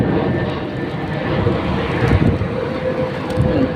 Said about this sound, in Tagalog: Lapit lang kami sa airport kasi dito, kaya laging may ano, aeroplano na darating.